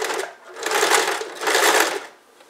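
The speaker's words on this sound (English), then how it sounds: "we're just going to fold it over and sew as close as we can to the original line on the other side" A sewing machine stitches the binding onto a wedding quilt, two loud close bursts of rapid whirring stitching separated by a short slowdown, with no talking.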